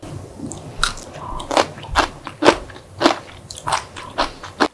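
Crunchy pickled Korean melon is bitten and chewed close up, with about a dozen crisp, wet crunches at an uneven, steady pace.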